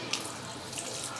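Tap water runs steadily into a sink while beef tripe is rubbed and washed by hand, a close, even splashing hiss with no voices.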